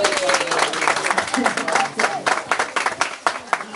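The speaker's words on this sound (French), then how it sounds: "Applaudissez alors." Children and adults at an orphanage gathering in Yaoundé clap in a loose, uneven rhythm, with voices and chatter mixed in throughout the short burst.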